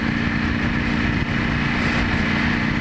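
A Ducati Panigale V4 motorcycle engine holds steady at about 3,500 RPM, a loud, continuous, even drone with a smooth, unbroken hum that stays level throughout.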